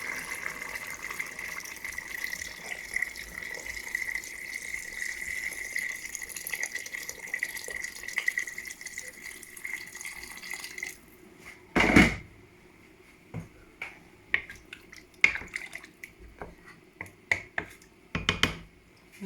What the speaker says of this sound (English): so here I'm going to be adding a bit of water.